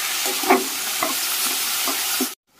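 Loud, dense sizzling of bottle gourd pieces frying with chillies in a pan, with a few scraping stirs, cutting off abruptly near the end.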